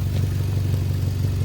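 A 1997 Toyota Camry engine with a bad muffler runs at a steady, close, loud idle, a low rumbling drone with a faint rattling clatter throughout and no talking.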